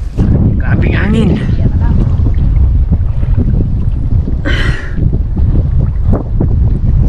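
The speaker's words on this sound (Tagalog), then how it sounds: "malakas ang hangin. Grabing hangin." Strong wind buffets the microphone in a constant low roar beside a river, with people talking faintly underneath and a brief hiss partway through.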